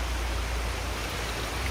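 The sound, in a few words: Temurun waterfall on Langkawi island, Malaysia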